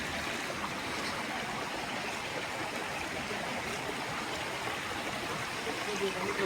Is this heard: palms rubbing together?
no